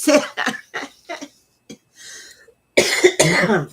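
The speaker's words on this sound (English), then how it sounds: "the cough is just a side effect of my medicines" A few short, sharp coughs in quick succession close to the listener, followed by a pause and then a voice speaking.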